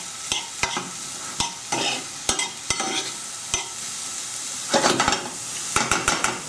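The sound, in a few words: stirring mushrooms frying in a pan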